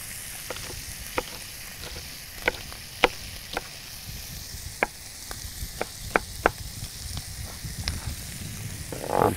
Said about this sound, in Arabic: ابتدت الطاسه تسخن وانا محتاج ان انا اشوح البصل